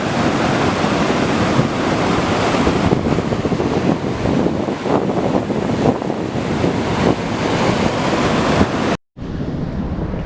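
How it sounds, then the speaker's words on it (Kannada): Powerful rushing water roars continuously and loudly at Chamaraja Dam, a dense churning torrent with gusts of wind buffeting the microphone; a brief cut near the end. "ನೀರು ಹೆವಿ ಫೋರ್ಸಾಗಿ ಬರ್ತಾ ಇದೆ."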